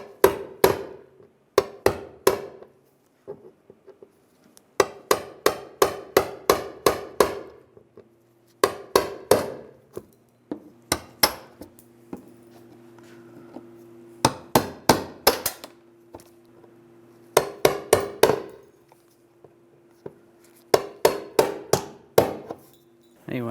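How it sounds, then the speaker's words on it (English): A punch and hammer knock rivets out of a license plate bracket on a 2007-2013 Chevrolet Silverado 1500, with bursts of loud, sharp metallic strikes in quick runs separated by brief pauses. "Now I'm going to use a punch and hammer out the rest of the rivets."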